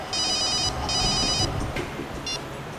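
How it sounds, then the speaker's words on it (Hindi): A telephone rings in an Indian TV crime drama, two rapid trilling bursts and then a short third one, over a busy background bed. "सर, अभिजीत सर का फोन था"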